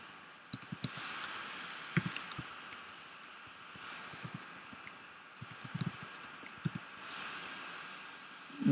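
Code is typed on a computer keyboard as scattered soft key clicks and taps at an irregular pace over faint background hiss. The sound is fairly quiet and there is no talking.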